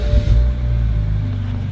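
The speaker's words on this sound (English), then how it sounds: "right now we got a muffler deleted" A BMW 328i with its muffler deleted idles with a deep, loud, rumbling exhaust drone, steady throughout at close range.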